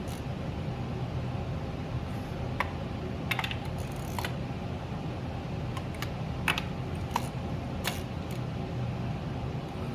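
Sharp metallic ratchet clicks in irregular short bursts while tightening spark plugs in the engine bay of a Honda Accord, close and crisp over a low steady hum.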